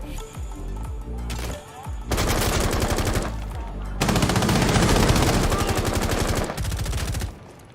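Rapid automatic gunfire from two operators trading shots in a Rainbow Six Siege match, loud sustained bursts with brief pauses between them, dense and close.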